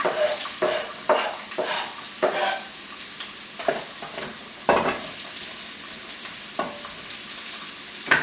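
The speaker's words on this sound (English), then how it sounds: "next I'm going to basically dump these onions in here and make sure that we start our process of caramelizing" Diced onions sizzle and fry in a hot pan for caramelizing, with repeated scraping and stirring strokes from a utensil cutting through a steady loud hiss.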